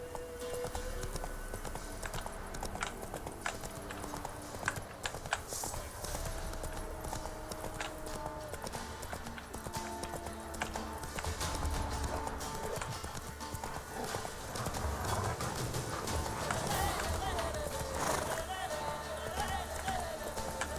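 Geralt's horse Roach galloping in The Witcher 3, steady hoof clip-clops running throughout under someone speaking.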